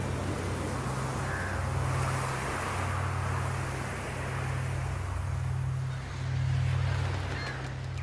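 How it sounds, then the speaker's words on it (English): Crows calling a few times near a beach, faint caws over a steady low wash of surf and wind, with no voices. "Crows are gathering."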